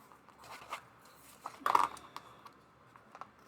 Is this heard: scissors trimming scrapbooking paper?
yes